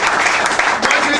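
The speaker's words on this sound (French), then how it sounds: "Applaudissez un peu pour le ministre." Audience applauding for a minister at a public event, a dense continuous clatter of clapping throughout, crowd-sized and fairly loud.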